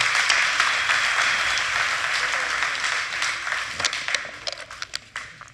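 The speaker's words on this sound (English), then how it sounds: "Give my dad a round of applause." An audience applauds a man in a live talk setting, dense clapping that is loud at first, gradually thins out and ends in a few scattered individual claps.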